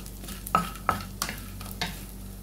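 Dried fish frying in a pan for breakfast: a low steady sizzle broken by four or five distinct spatula scrapes and clicks, close and moderately loud.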